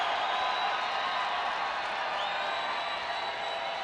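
A large baseball crowd at Globe Life Park in Texas roars steadily during the 8th inning of a Rangers–Blue Jays game, a dense, continuous wash of cheering heard from a distance with a few whistles cutting through; no talk.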